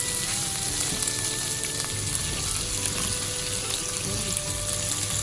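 Meat and onion sizzle in a hot pan for yakisoba, a dense, continuous crackling hiss held steady at close range throughout.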